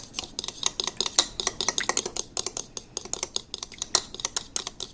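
Hot wing sauce whisked vigorously in a bowl, a rapid, steady run of close scraping and clicking strokes from the utensil against the bowl, with no talking over it.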